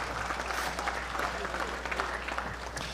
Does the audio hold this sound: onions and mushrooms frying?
no